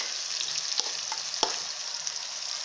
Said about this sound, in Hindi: देखिए ये अच्छे से पकने तक धीमी आंच पर रख दूंगी मैं ढक करके